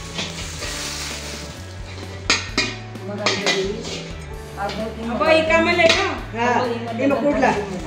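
Prasad mixture for dhaniya panjiri is stirred in a pan, giving clinks and scrapes of a utensil against metal with clattering bursts, while voices talk over the mixing.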